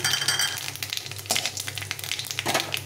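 Nigella seeds (kalo jeera) sizzling in hot oil with fried chillies, a steady crackling fry with occasional stirring scrapes, close and fairly loud.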